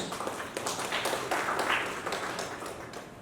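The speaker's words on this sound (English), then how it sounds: "big round of applause for you please" An audience in a lecture hall on management and philosophy claps together after a talk, a steady dense patter of many hands, fairly quiet and slightly distant, with no voices.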